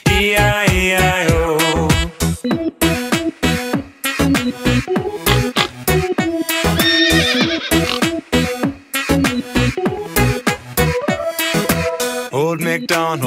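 In a children's nursery rhyme song, a voice imitates a horse neighing in repeated sung whinnies set to a bouncy, loud musical backing.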